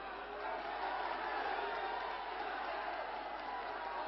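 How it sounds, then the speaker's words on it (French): A boxing crowd at a 1957 bout roars with frenzied applause and cheering, a dense, steady wash of clapping and voices filling the hall for several seconds without letup. "Applaudissements frénétiques d'une partie de l'assistance"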